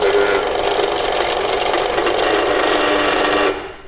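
A Parkside bench drill press is switched on and runs with a steady, loud mechanical whir at an even level, then cuts off abruptly near the end with a short fade.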